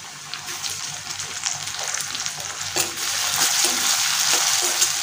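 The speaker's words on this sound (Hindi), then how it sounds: "टमाटर को थोड़ा सा फ्राई कर लेंगे और इसे थोड़ी देर हम पकाएंगे" Tomatoes frying with onions in a pan for paneer bhurji, a steady close sizzle with occasional stirring scrapes, loudest toward the end and with no talking.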